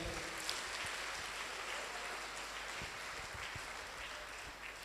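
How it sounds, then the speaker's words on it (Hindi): Sustained applause from a crowd, a steady wash of clapping that stays even throughout, heard from some distance. "मैं चाहूंगा इनके लिए जोरदार ताली आप लोग बजाएं"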